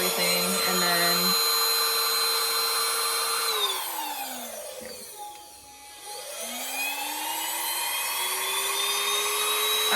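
A STARUMENT cordless handheld vacuum cleaner whines loudly as it is switched between power settings, its motor pitch sliding down almost to a stop and then rising again, with a steady airy roar held close.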